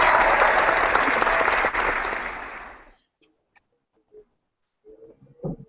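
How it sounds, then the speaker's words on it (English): A seminar audience at a business talk claps in loud, dense applause for about three seconds, then it stops abruptly, leaving near silence with a few faint scattered noises. "I really, really love the clapping."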